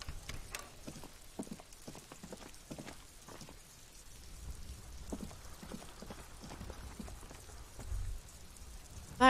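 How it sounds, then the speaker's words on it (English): Rain falling in a video game scene: soft, steady patter of drops on surfaces with scattered sharper taps, fairly quiet and continuous, a low rumble swelling briefly near the end. "And it's raining."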